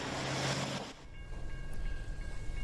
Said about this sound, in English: the train is blocking 9 Mile